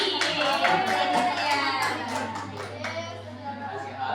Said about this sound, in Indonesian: Beri tepuk tangan dulu untuk kelompoknya.